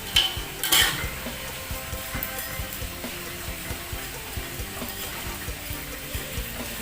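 Small dried fish fry gently in oil over low heat, with a continuous close sizzle and bubbling broken by a few scraping stirs and utensil knocks near the start.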